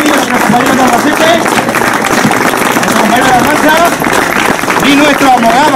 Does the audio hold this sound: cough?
no